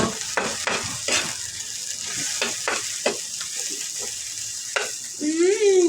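Eggplant fries and is stirred in a pan at home, with a steady sizzle under repeated scraping strokes of a utensil, close and clear, and a short voice sound near the end.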